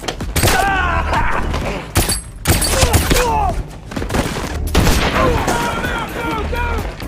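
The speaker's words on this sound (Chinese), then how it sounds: "双方立即展开激烈的射击" Intense gunfire in a TV drama shootout: loud, dense bursts of shots and heavy thuds from several weapons. Groans and voices come through the din, with a brief lull around the two-second mark.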